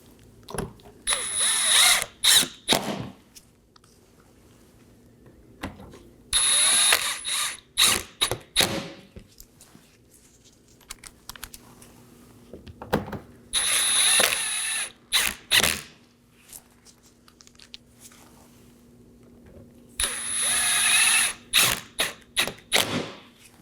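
Ratchet snugging down 7mm bolts under the bumper of a 2018-2024 Chevrolet Equinox: repeated close bursts of rapid clicking, several runs separated by short pauses, with no talk.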